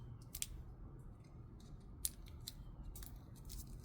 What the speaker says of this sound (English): if you want a decorative edge like this, you can just use your Fiskars paper edgers